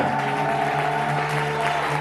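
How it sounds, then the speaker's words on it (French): A church congregation claps loudly for the Lord during a prayer gathering. The dense, sustained applause rises over a steady held musical tone underneath. "Est-ce qu'on peut applaudir très très fort le Seigneur?"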